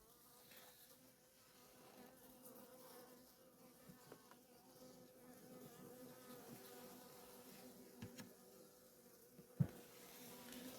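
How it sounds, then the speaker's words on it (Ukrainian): Carniolan honey bees crowd a hive frame during an apiary inspection, producing a steady, low droning buzz from many insects at close range, with a brief sharp knock near the end. "Слідуюча рамка ось так вже в нас обсижена бджолою"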